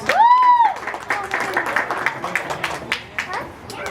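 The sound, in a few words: round of applause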